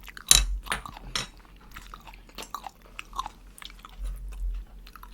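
Close, wet chewing and soft crunching of tomato during a meal with salmon and kimchi stew. Irregular bites and mouth sounds, fairly quiet, over a low background hum.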